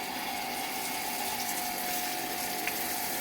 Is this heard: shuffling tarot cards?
no